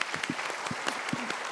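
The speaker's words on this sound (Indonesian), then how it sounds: "Untuk sementara kita berikan tepuk tangan Ibu Hartini" Audience applause for Ibu Hartini at a televised motivational talk show, a steady patter of many clapping hands in a studio hall, filling the whole moment without voices.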